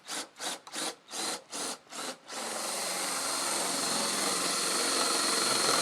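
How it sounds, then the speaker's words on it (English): A wooden trebuchet pole being worked with a hand tool: about six rhythmic rasping strokes in the first two seconds, then one steady, continuous grinding scrape that holds until the end, close and fairly loud, with no voices. "So now the hole is going to be drilled."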